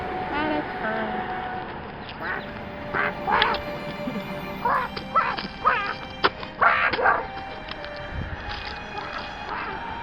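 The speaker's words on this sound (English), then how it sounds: "The duck came to them." A small duck gives a series of quacks in bursts that stand out over a steady background. A voice is heard along with them.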